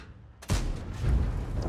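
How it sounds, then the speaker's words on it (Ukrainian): A single sharp, heavy tank cannon blast in World of Tanks hits suddenly, followed by a low rumbling tail that lingers and swells before fading. "Концепт недобитий по нам стріляє"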